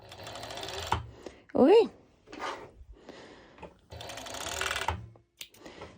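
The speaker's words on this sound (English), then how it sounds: "So as you see, I serged it." Serger overlock sewing machine stitching fabric for a pole dance top: short bursts of rapid mechanical whirring, near and fairly quiet, interrupted by a person speaking briefly between runs.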